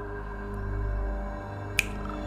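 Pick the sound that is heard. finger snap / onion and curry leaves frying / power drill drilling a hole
finger snap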